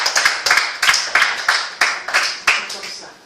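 Church congregation clapping to acclaim God, a close, loud burst of rhythmic hand claps landing at a brisk, steady beat for about three seconds.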